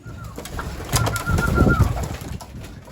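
Racing pigeons coo softly in low, rolling calls inside their loft amid faint rustling and shuffling, the cooing swelling briefly in the middle.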